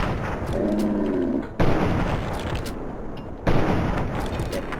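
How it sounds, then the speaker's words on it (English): Two loud hunting rifle shots fired in the Fallout 3 video game, each a sharp broadband blast about two seconds apart, over a continuous rumbling game background. "we're going to shoot the arm"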